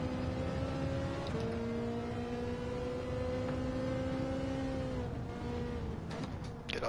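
Group 4 Toyota Supra race car in Gran Turismo 7, a steady engine whine climbing through revs with a couple of brief gear-change dips, heard from onboard at moderate volume with no talking.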